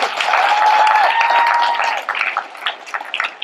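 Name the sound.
audience applause for the show guests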